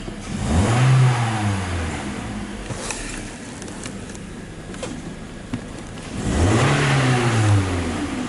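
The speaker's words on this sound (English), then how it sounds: "Let's rev it up and see what we got." A car engine, previously affected by a check engine light and no throttle response, revs up twice with idle between, each rise and fall loud and close.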